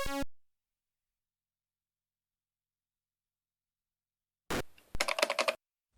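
ZX Spectrum rubber keys in Daley Thompson's Decathlon, a short clack at the start, a long silence, then a quick burst of rapid hammering keypresses, close and crisp.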